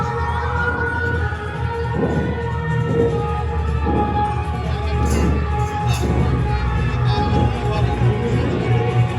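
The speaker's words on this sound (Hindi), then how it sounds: "भीड़ बहुत आई है" A large outdoor crowd at a Ramleela performance roars steadily, with loud cheering swells and shouts rising in rhythmic bursts over a constant murmur.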